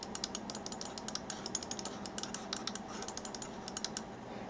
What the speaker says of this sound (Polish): Przyciski chodzą dość lekko i cicho